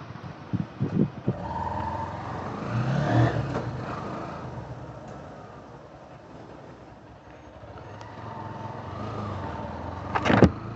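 A Honda motorcycle being ridden, its engine droning steadily with rising and falling revs under wind rush, heard close from the rider's position with a few sharp knocks, no talk.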